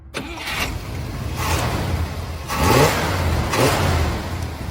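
A 2.5-ton 1963 Cadillac Series 6200 sedan with a 6.4-liter pushrod V8, originally fed by a 4-barrel Rochester carburetor, starts and revs several times, the engine rising and falling in close, steady bursts with no talk.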